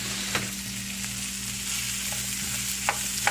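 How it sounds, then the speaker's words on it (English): Leftover salmon, kidney beans, mushrooms and vegetables stir-fry in a pan with a steady, close sizzle, broken by a few sharp clicks of stirring over a low electrical hum. "It's going to be a nice little stir fry."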